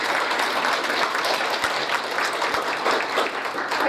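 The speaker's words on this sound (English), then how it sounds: "if we can just give him and his wife a round of applause" A gala crowd at a coaches' honors dinner bursts into sustained applause, a dense roar of many hands clapping close by for several seconds with a few cheers mixed in.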